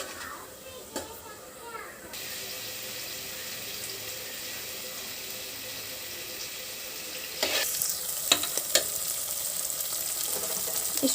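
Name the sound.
frying ground masala paste with green chillies in oil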